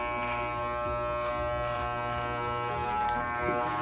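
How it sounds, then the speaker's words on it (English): Electric hair clippers buzz steadily and close by, cutting hair during a home haircut, a continuous motor hum with slight changes in load as the blades move through the hair. "until you hear the machine cutting hair"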